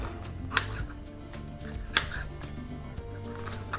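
A knife chops peppers on a board with a few sharp, quiet knocks spaced irregularly over soft background noise, close by and without talk.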